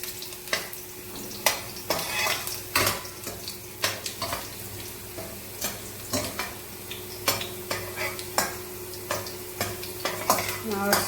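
Whole spices sizzling in hot oil in a pan for a traditional Marathi buttermilk drink, with a steady fry hiss broken by frequent scraping stirs and clinks of a utensil against the pan, close up.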